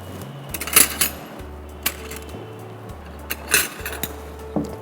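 A bowl set down for mixing a salad, with several close, sharp clinks and knocks of dishes and utensils spread unevenly over a quiet kitchen background.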